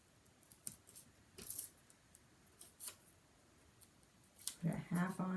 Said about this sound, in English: I think I'll cut that a little bit at an angle.